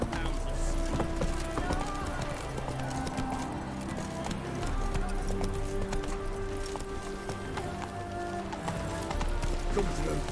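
Roach the horse gallops in The Witcher 3: Wild Hunt, a steady run of clip-clopping hoofbeats under loud, continuous game music.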